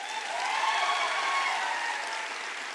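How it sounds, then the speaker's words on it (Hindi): Steady applause from an audience clapping for an army subedar major at a speech event, a dense continuous patter that swells slightly and holds for a few seconds with no voices over it. "आर्मी वाले सर के लिए जोरदार तालियां"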